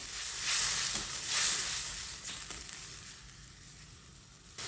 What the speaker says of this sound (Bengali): নেড়ে ছেড়ে সম্পূর্ণ মশলাটা আমি কষিয়ে নেব